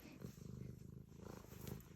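A cat purring close by, a steady low rumble pulsing in rhythm with its breaths, continuous and fairly quiet.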